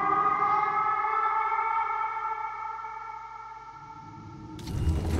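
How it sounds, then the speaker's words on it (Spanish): Eerie rising-and-falling civil defense style siren from the video game Silent Hill: Homecoming, a loud sustained layered wail with droning harmonics, ending in a burst of noisy rumble near the end. "Sirena de Silent Hill."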